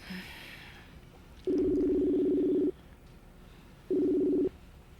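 A telephone number being dialed: two steady electronic dial tones, one long and one shorter, ring out clearly over a quiet room with no talking.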